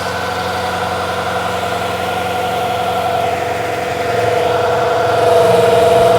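A New Holland TL-90 diesel turbocharged tractor engine runs steadily and loudly up close with a droning hum, its pitch and volume climbing slightly toward the end as it revs up.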